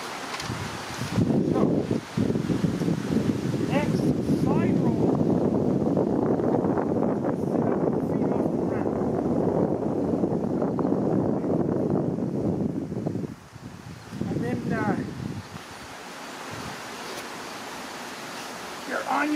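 Strong wind gusting outdoors on a windy day, roaring steadily into the microphone as a loud, dense rush that eases off only briefly near the end, with short bursts of talk rising through it.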